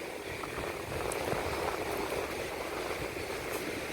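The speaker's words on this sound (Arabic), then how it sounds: "سامعين صوت البحر؟" Sea waves at Ras El Bar beach on Egypt's coast, a continuous rushing wash of surf that swells slightly midway, steady and moderately loud with no talk.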